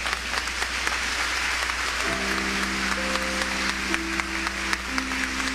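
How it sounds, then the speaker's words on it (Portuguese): A church congregation claps steadily and fairly loudly while a sustained organ or keyboard chord enters partway through and holds beneath the applause. "E continue aplaudindo quem está chegando lá no fundo"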